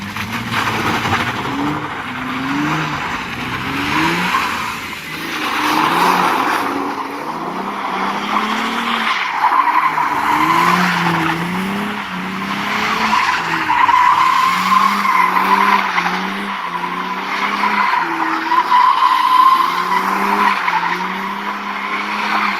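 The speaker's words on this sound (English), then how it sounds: "we're about to drift this roundabout that I've been dying to drift" Tires squeal and skid continuously as a car drifts around a roundabout, engine revving and wavering in pitch, loud and close throughout.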